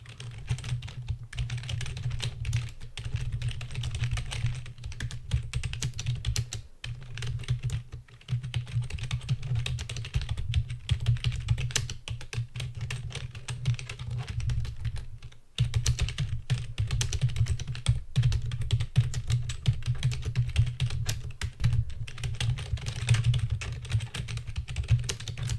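Continuous close-up typing on a computer keyboard, soft rapid key clicks in an uneven rhythm, with a low hum underneath and no voice.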